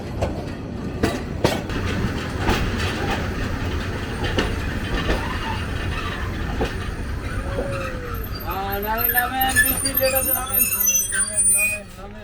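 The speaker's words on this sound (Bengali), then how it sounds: "বুড়িমারি এক্সপ্রেস ট্রেন বঙ্গবন্ধু সেতুর পশ্চিম রেল সেতুর যে স্টেশন সেখানে প্রবেশ করতেছে" The Burimari Express train rolls into a newly built station at the west end of the Bangabandhu Bridge with steady rumbling and clattering wheels, ending in squealing brakes as it slows; a voice talks over the noise.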